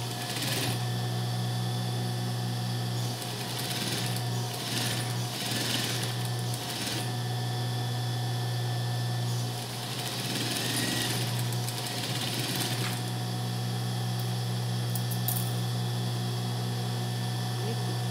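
A sewing machine stitches a seam on a children's shorts set, its rapid mechanical whirring coming in several close bursts over a constant motor hum.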